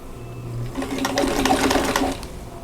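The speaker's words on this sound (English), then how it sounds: "I need to adjust my stitch length a little bit here. And I'm going to chain piece all of these together." A vintage sewing machine runs in a short steady burst while chain piecing quilt block squares, its rapid needle clatter close and fairly loud, following a brief low hum at the start.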